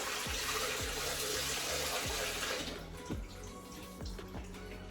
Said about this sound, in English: I'm just going to put some water in.